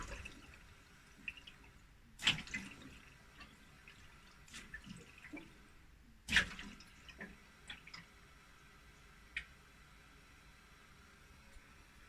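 Water flowing through the pipe of an Atlantic Alfea Extensia Duo heat pump after a valve is opened: a faint, steady low wash with a few sharp clicks and knocks scattered through it.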